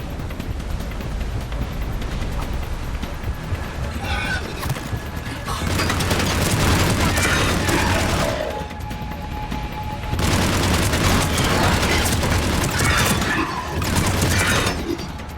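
Combat gunfire from Mass Effect 3 keeps up as a continuous barrage, with rapid shots and heavy booms swelling into loud intense volleys, then easing briefly before rising again.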